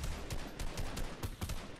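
Rapid bursts of Fortnite gunfire, a dense volley of sharp shots fired in quick succession, close and loud for a couple of seconds.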